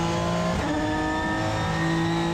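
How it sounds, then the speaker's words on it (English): An Aston Martin DBR9 racing car's V12 sings with a loud, sustained, tonal roar, its pitch dipping briefly then holding steady as the engine pulls hard close by. "the sonorous noise of the Aston Martin DBR9's singing V12"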